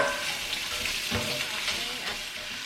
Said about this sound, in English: I'm gonna add that to the pan with that olive oil and saute all those for just a couple minutes